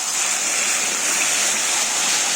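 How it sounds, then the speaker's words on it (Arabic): Warm milk is poured over kunafa in a steady, continuous splashing stream that stays close and even for a couple of seconds. "دلوقتي بقى هنكون مدفيين كوباية حليب او لبن، وهننزل عليها كده"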